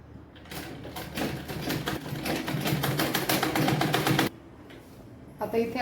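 A sewing machine stitches the seams of a fabric rabbit-shaped cap in a quick, rhythmic run of close mechanical clicks lasting a few seconds, then stops as a voice begins talking.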